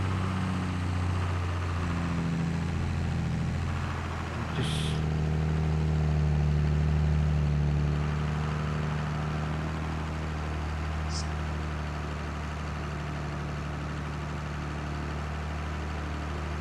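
Tractor engine in Farming Simulator 22 drones steadily at low speed, a loud continuous low rumble with a slight swell in the middle, a couple of brief faint clicks over it, and no talking.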